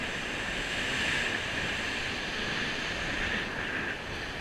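Strong wind roaring steadily on a shingle beach at Chesil Beach in October, a loud constant broadband rush blended with breaking surf, with no voices.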